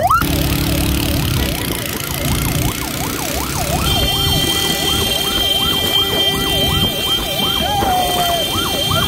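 Emergency ambulance motorcycle built by EMF in Cameroon, its wailing siren cycling steadily and loudly over engine and street noise, a second steady tone joining partway through.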